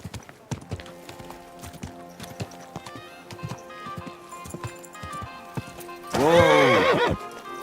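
Steady rhythmic clip-clop of a horse's hooves continues throughout, with a loud, close neigh bursting out near the end before the hoofbeats carry on.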